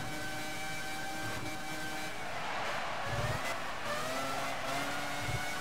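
A Renault-powered Formula 1 car in the racing game EA F1 2001, at the Australian circuit, gives a continuous whining engine note whose pitch drifts and sweeps, with a few low thumps along the way.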